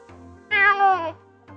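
A cat character meows in the Choices: Stories You Play game, Wishful Thinking chapter, with one long, clear, rising-and-falling meow standing alone after a soft, brief opening note and low background music.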